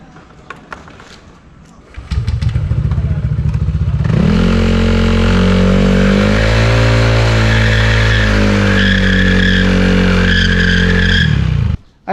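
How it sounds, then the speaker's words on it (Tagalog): A Yamaha Aerox scooter idles, then its engine revs hard and holds a high, droning pitch as the rear wheel spins in a burnout, loud and close for several seconds before cutting off abruptly. "yung tinatawag na burnout, yung pwede kang mag-wheel spin sa likod, gagawin natin dito sa Aerox natin"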